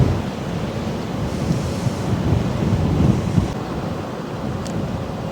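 Wind gusts buffet the microphone on a boat deck near a canal lock, a steady, fairly loud rumbling whoosh with slight swells and no talk.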